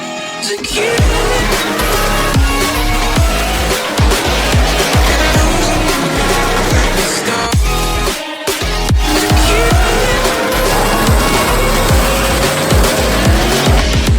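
A drift car powers through a forest stage at Drift Open 2021 on Tor Kielce, loud engine revving and tyres squealing continuously, with a brief dip in the middle before the howl returns.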